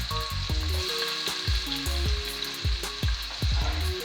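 Bell peppers, garlic and onions sizzle loudly in hot oil while a utensil stirs and scrapes the pan in irregular bursts, with no one talking.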